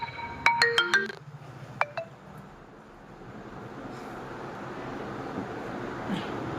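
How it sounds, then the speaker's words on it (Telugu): An incoming call on a phone rings out as a short burst of bright electronic ringtone tones, clear and fairly close, then gives way to a low steady background hum. "ఫోన్ వస్తుంది."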